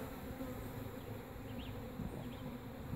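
Honeybees buzz steadily around a beekeeper working an open hive at a Jamaican apiary, a dense close insect drone filling the scene, with a couple of brief rising whines as individual bees pass near.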